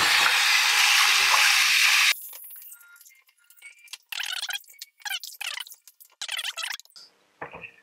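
Running water rinses an aluminium part before anodizing, a loud steady rush at first, then cutting off into a series of short bursts of splashing and spraying.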